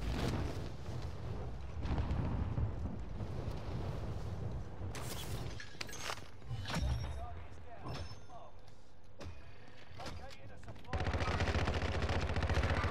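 Rapid bursts of Call of Duty gunfire crackle over a constant noisy background, with a few sharp shots standing out and voices talking in Portuguese now and then.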